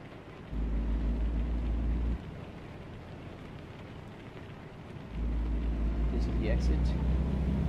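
Car engine in a driving simulator game starting up, a low steady rumble that kicks in, drops back, then returns and holds under a continuous hiss of rain.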